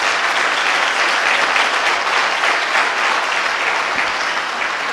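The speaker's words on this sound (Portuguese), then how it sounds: "Vamos aplaudir o nosso Deus bem forte" A church congregation applauds loudly and steadily, a dense wall of clapping that fills the room without pause for several seconds.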